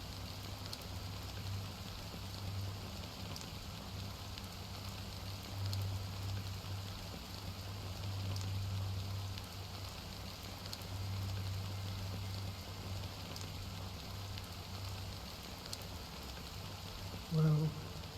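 Steady rain patter and a soft hiss in a Honkai: Star Rail game scene, continuous and even throughout, with faint low hum beneath and a brief louder knock near the end.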